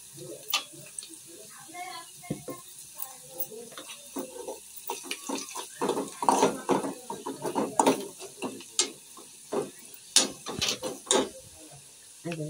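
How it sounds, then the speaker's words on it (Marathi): Onion browned deep red and sautéed with salt and masala, stirred in a pan during a Malvani home cooking session, giving repeated scraping, clattering stirs in irregular bursts with a faint sizzle underneath, fairly close. "असं पूर्ण घ्यायचं आणि त्याला परतायचं"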